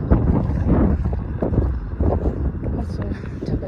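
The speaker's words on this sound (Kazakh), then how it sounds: "Ыстық жел, жаңбыр жоқ" Hot wind gusting across open countryside, a steady rough rumble of wind buffeting the microphone with no rain, loud and continuous throughout.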